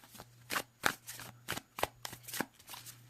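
Overhand shuffle of a Circo Tarot card deck, a quick series of about ten crisp, close papery slaps and riffling bursts in uneven rhythm, quiet and alone.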